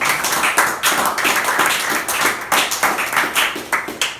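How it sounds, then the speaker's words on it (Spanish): A church congregation claps during a sermon, the sound coming as loud, rhythmic bursts of hand claps in uneven waves with no one speaking. "Vamos a darle un aplauso a Jesucristo"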